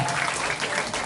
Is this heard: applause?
yes